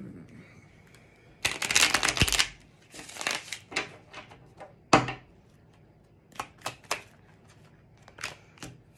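A Chicoli tarot card deck being shuffled by hand: a dense riffling burst, then shorter shuffles and scattered crisp card snaps and taps, close and clear with no talk over it.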